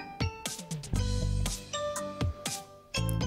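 A small bell is handled and attached to a Rajasthani woolen decoration kite, giving repeated bright, close tinkling chimes with no talking.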